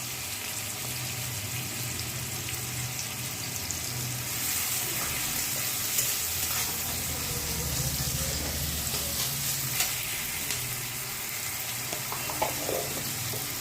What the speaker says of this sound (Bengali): দেখো পেঁয়াজটা একটু ভাজা ভাজা হয়ে এসছে